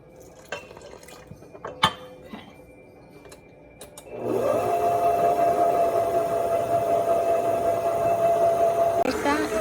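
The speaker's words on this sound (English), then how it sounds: "I'm gonna put some water in first." Water goes into pizza dough in a mixer: a few scattered clicks and taps, then a steady, louder running and sloshing sound with a whirring hum that stops abruptly near the end.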